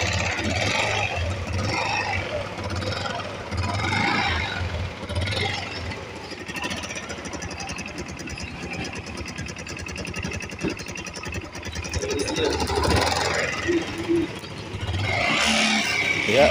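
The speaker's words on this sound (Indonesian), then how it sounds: "Motor tidak berebet dan langsamnya pas, tidak matian dan tidak besar sekali itu." A carbureted Yamaha Xeon scooter idles steadily after its carburetor idle and air screws are adjusted, giving a close, even low engine putter with a faint rise near the end while someone talks over it.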